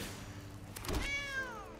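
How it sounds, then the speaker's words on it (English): Cat meow from the MTG Arena card game, a brief thud followed by a drawn-out falling meow of moderate loudness over a soft background bed. "Meow, my friend."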